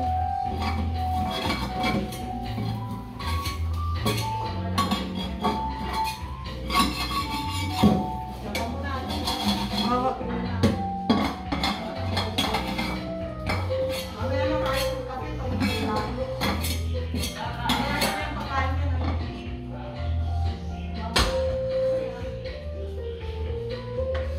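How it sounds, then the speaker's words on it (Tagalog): Dishes clink and clatter on and off throughout, with scattered sharp knocks of plates and utensils among faint background voices. "Hinahanap ko yung mga pinggan."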